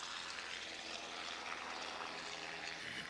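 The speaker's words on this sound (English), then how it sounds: "It's like a Medq helicopter flying overhead." A medical helicopter passes overhead at a baseball game beside a track meet at Fitzpatrick Stadium in Portland, heard as a steady broad rushing drone that holds level throughout, with no talk.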